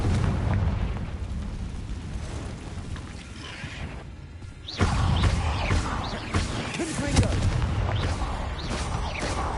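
A Confringo fire spell blasts in the Hogwarts Legacy video game, a sudden loud burst midway that cuts through dense, continuous game noise and music, followed by crackling, rumbling aftermath.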